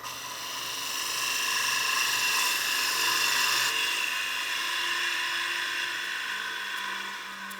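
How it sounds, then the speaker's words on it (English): Wood lathe spinning a spinning-top blank while a gouge cuts through an embedded brass nail, a steady high whirring hiss that swells and fades slightly, heard close with no talk. "brass is a very weak material, and I can cut that with my gouge"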